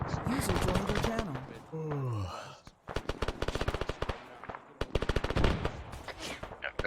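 Sporadic bursts of rapid automatic gunfire from the military shooter game ARMA 3, sharp repeated cracks in clusters, loud and close, with brief voice talk and radio-like chatter early on.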